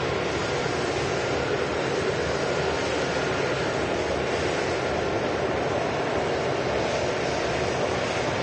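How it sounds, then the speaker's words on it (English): Airbus A330 airliner lining up on the runway at Manchester Airport, a steady broadband engine roar and rumble holding at constant loudness throughout, with no talk. "An A330 lining up on runway 2."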